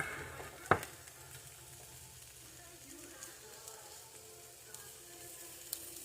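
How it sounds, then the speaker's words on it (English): Onions dry-sautéing in a pan with a little salt give a faint, soft sizzle throughout. A sharp utensil tap comes early, followed by a few quieter knocks. "And we're doing dry saute on the onions"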